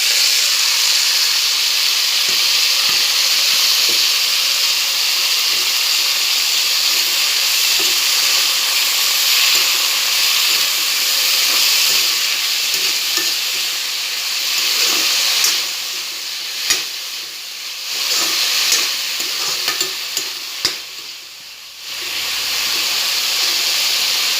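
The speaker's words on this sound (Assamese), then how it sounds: "এতিয়া ইয়াতে দি দিম শাকখিনি। আলু দুটামান দি দিছোঁ লগতে।" Leafy greens and potatoes fry in a pan over ginger and garlic, a loud steady sizzle and hiss close by with scattered clatter from stirring, fading somewhat toward the end.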